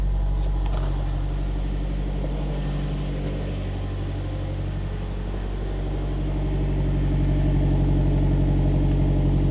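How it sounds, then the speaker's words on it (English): 1994 Nissan Silvia S14 with an SR20DET and HKS Super Dragger exhaust idling close by, a deep steady rumble with an even low pulse and no talk, swelling slightly toward the end. "And let me show you how the exhaust sounds."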